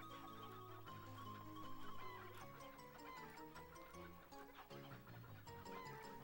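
A chicken clucks in a video game, faint repeated clucks over tonal background game music with ticking sounds, all quiet and continuous.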